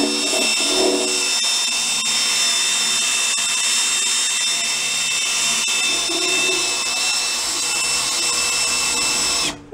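A power drill runs steadily throughout in a motorcycle restoration workshop, a loud continuous high-pitched whine with no talk, cutting off abruptly at the end.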